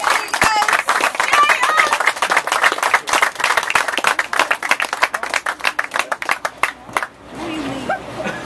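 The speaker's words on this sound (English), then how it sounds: "Let's give a big round of applause as we get out there." An audience claps for six students who are the first ever to complete a Courage Canada program, the clapping sharp and uneven with chatter mixed in, then fading out near the end.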